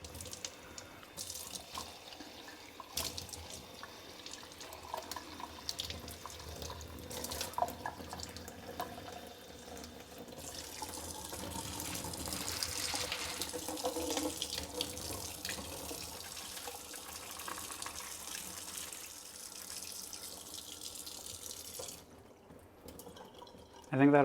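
Running tap water rinsing plant roots at a sink, a continuous splashing gush under occasional speech that swells in the middle and cuts off near the end.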